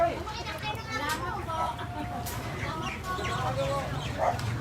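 Chickens clucking in a yard at close range, several short irregular calls scattered over steady background noise, with people talking throughout.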